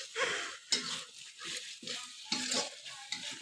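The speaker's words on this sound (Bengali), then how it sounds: "এখন আমি মশলাটা ভালো করে কষিয়ে নেব।" A spice paste stir-fried in oil for prawn malai curry sizzles under a rhythmic run of scraping stirring strokes, close and moderately loud, with no talk.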